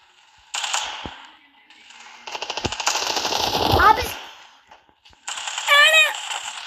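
Automatic gunfire in a video game, sustained rattling bursts with clicks and swooshing effects, loud and busy, while someone talks over parts of it.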